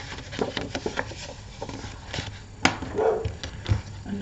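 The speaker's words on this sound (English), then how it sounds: "These dogs are annoying me." Dogs barking somewhere in the distance behind an urban street-art painting session, scattered faint barks over low background clatter and noise.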